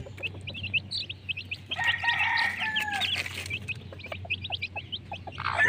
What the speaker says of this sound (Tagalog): nabigyan na po natin ng patuka ang ating mga sisiw